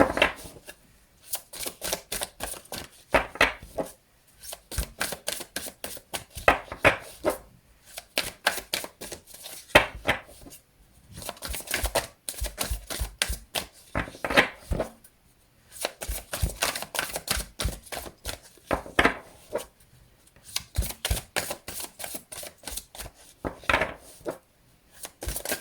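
A deck of playing cards being shuffled by hand: rapid, crisp riffling bursts of flicking cards, repeated in clusters with brief pauses, close and moderately loud with no talk.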